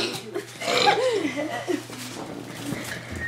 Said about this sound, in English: Hold on, I'm gonna burp my ABC.